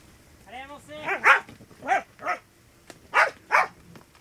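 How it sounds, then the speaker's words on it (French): A herding female dog barks repeatedly at a group of cows on a farm, giving about eight sharp, close barks in an uneven rhythm, with some whimpering yips between them. "Mais Gali, la chienne 60 fois plus légère qu'une seule d'entre elles, réussissait à les pousser."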